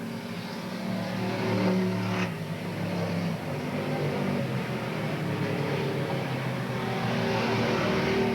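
Race cars roar around the Willamette Speedway oval, engines droning steadily and loudly as the pack circles, with car number 7 moving up on the leaders.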